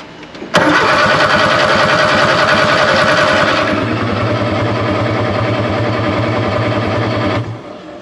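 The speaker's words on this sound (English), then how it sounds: "Let's go ahead start turning this thing over, check oil pressure, and see if it starts pulling fuel." The engine of a barn-find custom Nash Metropolitan cranks over without the key after decades unused, a loud steady rhythmic starter churn that continues for several seconds, changes pitch partway through, then cuts off.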